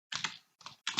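Computer keyboard typing while writing C code, three short close bursts of key clicks separated by brief pauses, isolated with no speech.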